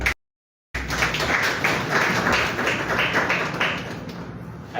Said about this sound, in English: I didn't expect you to clap.